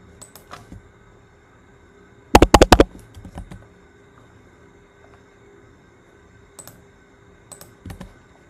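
Key presses on a computer keyboard while a Spring Boot app is run: a few isolated clicks, then a quick cluster of taps, then scattered single presses over a steady background hum.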